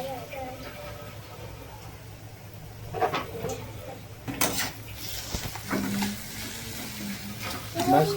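Onion-garlic masala with chili powder and turmeric sizzles in a pan, with a spoon scraping and stirring against metal in bursts over the steady frying hiss, while a person talks nearby.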